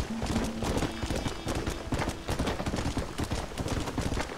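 Horse hooves clatter in steady, fast clip-clop rhythm from the Red Dead Redemption video game, loud and continuous with game ambience underneath.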